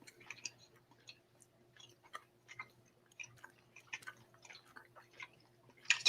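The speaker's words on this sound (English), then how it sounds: "Too much chewing." Several candies chewed together at once produce close, soft wet mouth clicks and smacks in an irregular rhythm, with no speech.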